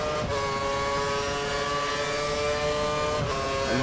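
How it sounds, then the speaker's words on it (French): An M6 race car accelerating hard out of Woodcote at Silverstone, a steady loud in-car engine drone with sustained harmonic tones and a couple of brief knocks, no talk. "On sort de Woodcote. On accélère très très fort"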